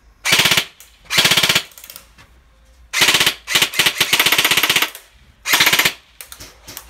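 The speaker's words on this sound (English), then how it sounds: "So we're going to put the ARP-9 first of all, put some of the targets there. Flick it onto the semi. And then put it on full auto." Bursts from a G&G ARP-9 airsoft gun firing at targets: rapid buzzing volleys of full-auto fire, loud and close, separated by short pauses, with a clatter of separate shots in the middle run.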